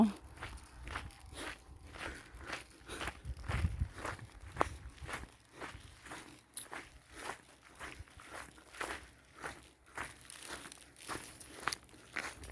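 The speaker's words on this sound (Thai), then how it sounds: "กำลังเดินลงเขา" Steady footsteps walking downhill on a rural Norwegian path in hot weather, a regular crunching rhythm of paced steps, close and fairly quiet, with no talking.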